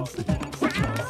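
A cartoon cat meows a few times close up in the mobile game Run Sausage Run, its voice rising and falling over game noise.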